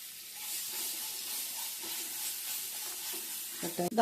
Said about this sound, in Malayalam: ഇത്രയും കൂടെ ഇട്ട ശേഷം ഒന്ന് വഴറ്റുക